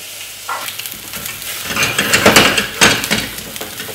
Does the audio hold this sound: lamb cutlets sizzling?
yes